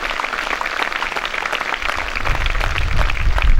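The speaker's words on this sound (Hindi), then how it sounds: "एक बार फिर से हम लोग ताली बजाएंगे सर के लिए।" An audience at a school annual sports day claps for a speaker, a steady, dense patter of many hands that swells slightly louder toward the end.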